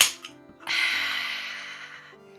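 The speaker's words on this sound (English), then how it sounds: "I will quickly grip and rip a hard seltzer." A can of black cherry hard seltzer cracks open with a short click, then a long fizzing hiss of escaping gas that slowly fades, close and clear over faint background music.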